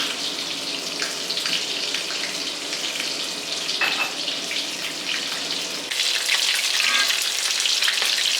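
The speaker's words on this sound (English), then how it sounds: "And here the cheese sizzling, and I think it's ready to turn." Steady crackling sizzle of breaded cheese frying in hot oil, continuous and close, growing slightly louder toward the end with no talking.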